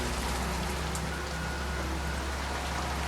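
Heavy rain pours on surfaces in Tashkent, a dense, constant roar of drops that stays loud and even throughout, with no voices.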